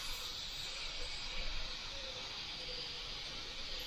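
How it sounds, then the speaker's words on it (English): An airbrush spraying paint in a steady, close, continuous hiss while shading a sphere lighter, holding level throughout with no clear talking. "we're backing off with the airbrush and we're just toning it lighter"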